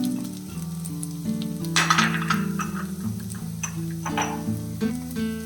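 Carrots tossed into a hot pan of oil for paneer pulao, hissing and crackling steadily under background music, with scraping stirs and a few utensil clinks.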